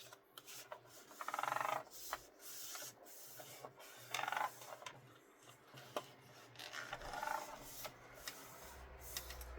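Paper for a 23x23 scrapbook album being pinched and folded by hand: close, quiet rubbing and rasping strokes come in a few separate bursts, with short pauses between them and no talk.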